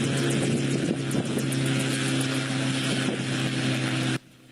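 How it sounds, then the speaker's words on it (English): Model aircraft with bent propellers taking off, a steady buzzing motor drone with rough, fluttering texture and a few bumps, cutting off abruptly near the end. "The aircraft successfully takes off, but when it tries to land, this is what happens."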